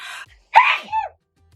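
A single sharp sneeze up close, preceded by a brief breathy intake and trailing off into a short vocal tail.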